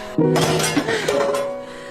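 A frying pan strikes a man in a movie fight scene, giving a loud metallic clang with a long ringing tone and a second ringing knock soon after.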